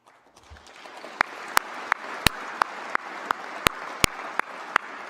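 A convocation audience applauds. The clapping builds from near silence into a scattered, moderate round, with a few sharp, distinct claps standing out close by.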